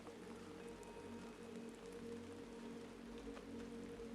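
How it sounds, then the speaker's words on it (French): Soft, steady rain falls in an even, gentle hiss with faint scattered drops and no voices. "Concentrez-vous sur le doux son de la pluie"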